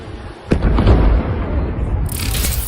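Cluster missiles fired from Iran strike Israel. The impacts come as a sharp, loud blast followed by a sustained, rumbling roar of explosions with no voices over them.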